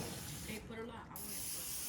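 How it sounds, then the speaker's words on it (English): Pam cooking spray, shaken and opened, is sprayed in a generous coating onto a cooker for a quesadilla, giving a steady close hiss that runs through most of the moment. "do a generous coating of spray"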